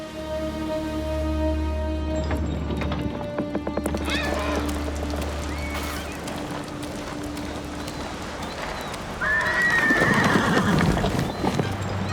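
Nobu, a horse in Ghost of Tsushima, whinnies loudly, with clip-clop hooves, a steady low drone and game music through most of the span, then a second, rising neigh near the end.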